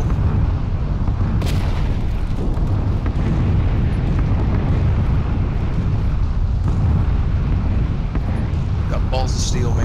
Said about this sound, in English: You don't want to wait for this mortar fire?